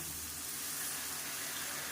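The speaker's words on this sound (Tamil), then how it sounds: "இப்போ இதில் தண்ணி சேர்த்துக்கலாம்." A steady stream of water pours and splashes into a cooking pot of tomato sambar continuously for a couple of seconds, close and moderately loud.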